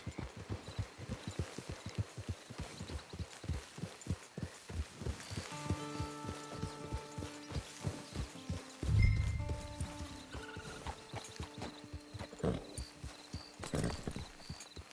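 Steady clip-clop of horse hooves walking in Red Dead Online, rhythmic and fairly close, with a brief snort and game music tones layered in the background.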